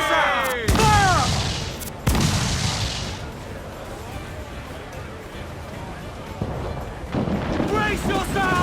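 Ship cannons boom during a naval battle in Assassin's Creed 4 Black Flag, with a loud opening blast, a second sharp report and a long rumbling decay, as crew voices shout orders over the fire.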